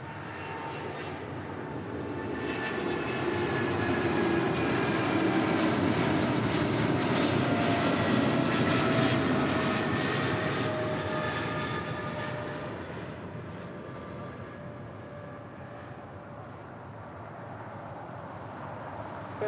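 A FedEx heavy cargo jet departs Los Angeles International Airport, its engine roar building to a loud, broad rumble with whining tones, then slowly fading as it climbs away.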